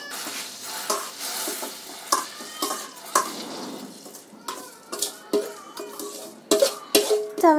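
Sweet vermicelli goes into milk in a cooking pot with dry fruits, giving repeated close scraping and clinking of a utensil against the pot over a soft bubbling hiss, in irregular bursts that grow busier toward the end.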